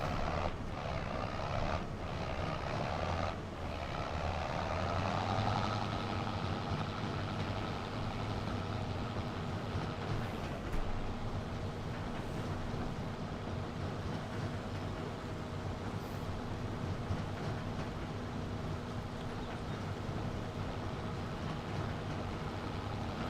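Ford tractor engine in Farming Simulator 25 droning steadily at a loud, even level, with a few brief knocks early on as gears change, then a continuous hum throughout.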